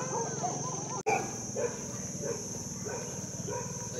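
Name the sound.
dogs barking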